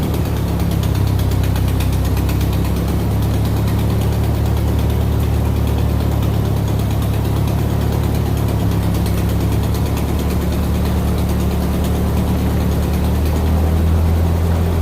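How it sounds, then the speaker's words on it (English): An old farm tractor used for plowing runs steadily throughout, a loud, continuous low engine drone with a rough, unchanging throb and no voices. "Use these tractors to plow,"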